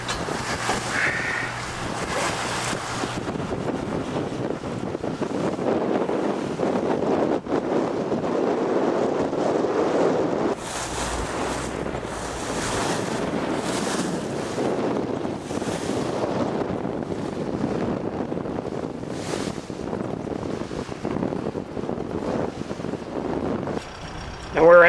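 Strong wind buffets the microphone aboard a Prairie trawler cruising open water, a continuous roaring rush with wave and hull noise beneath, loud and close throughout.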